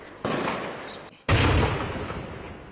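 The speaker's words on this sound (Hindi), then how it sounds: "इस घर को निशाने पर लेकर लगातार बम और गोलियों की बरसात की जा रही है।" Two heavy blasts, the second louder and closer, during a security forces operation with gunfire and bombs hitting a house, each leaving a long rumbling tail.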